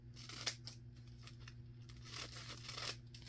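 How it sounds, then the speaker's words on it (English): Scissors snipping through a strip of tissue paper for cupcake decorating, several quick crisp cuts with light rustling and crinkling of the paper in a quiet room. "And we want to cut this whole line of tissue paper."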